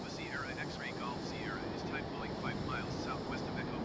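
An airplane engine in Microsoft Flight Simulator drones steadily just after takeoff and landing-gear retraction. The noise is a constant, moderately loud roar, with a voice talking over it throughout.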